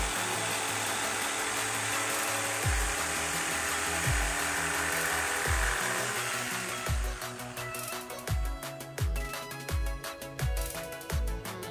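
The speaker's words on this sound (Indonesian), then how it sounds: "Dan ini kita coba potong lurus tanpa di garis ini ya guys." An NRT PRO JS80HD jigsaw cuts straight through wood with a loud, steady motor buzz. The buzz later breaks into a rhythmic series of low thumps and rattles as the blade chops through, with no voices.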